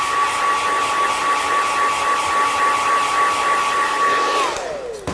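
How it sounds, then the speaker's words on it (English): Hair dryer running on high, a steady loud blowing whine with a thin pitched tone, cut off near the end as the motor winds down. "Again, you're going to just take a hair dryer"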